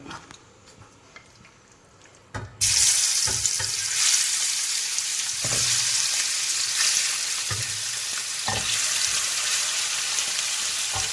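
Shrimp dropped into hot Milma ghee in a pan: quiet at first, then a sudden loud sizzle that keeps crackling steadily, with occasional stirring thumps and scrapes and no talking.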